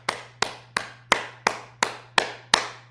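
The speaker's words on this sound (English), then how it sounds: "We start with clapping." Cupped hands clapping on the body during a heart-and-lungs self-massage sequence: eight crisp, evenly spaced pats in a steady rhythm, close and moderately loud, over a faint low hum.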